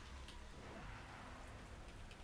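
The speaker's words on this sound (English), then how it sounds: "You can retreat and wait for the storm to clear." Rain and a thunderstorm on Siren Isle in World of Warcraft, a dense, steady hiss of falling rain with a low rumbling undertone, faint and continuous with no voices.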